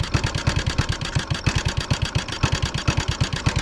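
A warmed-up Honda Cub C200 motorcycle engine idles close by with a fast, slightly uneven putter, each firing pulse clearly separated and steady throughout, with no talking.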